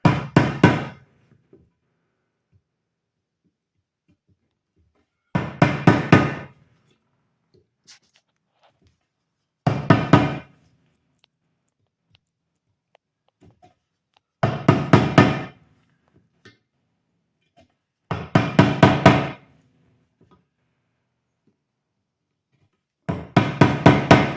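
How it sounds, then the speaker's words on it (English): A wooden mallet drives a chisel into a wooden gate, heard close up in six bursts of several quick, sharp knocks each, separated by quiet pauses of a few seconds. "it is possible to do the whole thing just with the chisel and the mallet like this"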